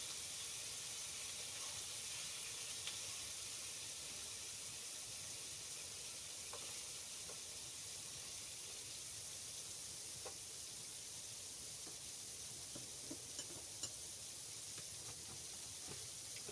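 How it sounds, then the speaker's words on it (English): Steady sizzling hiss from a wood stove in a tarp tent below zero continues throughout, with faint crackles and pops scattered over it, close and fairly quiet. "Oh yeah, you can hear it now. It is sizzling now."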